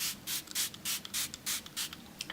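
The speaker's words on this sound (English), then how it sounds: "I am going to start with my Smashbox Photo Finish Priming Water. Spray that on my face." Rapid bursts of hissing mist from a Smashbox Photo Finish Priming Water pump bottle sprayed onto a face, about nine quick sprays in a steady rhythm, close and fairly quiet.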